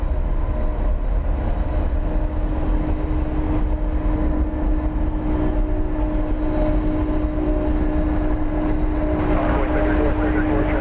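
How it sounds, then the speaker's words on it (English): A continuous low roar of a Boeing 777 airliner taking off at night from Dallas Fort Worth Airport in the distance, steady and broad, with a faint tonal hum. "I think we've got the sounds of a 777 going out here"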